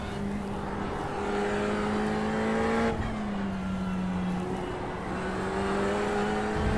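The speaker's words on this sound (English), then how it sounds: "It's a 488 Ferrari. Mid-engine car, twin-turbo V8." Ferrari 488 GT3 with a mid-mounted twin-turbo V8 in an iRacing sim race, its engine droning steadily and rising in pitch through the gears, with a brief shift near the middle, loud and continuous.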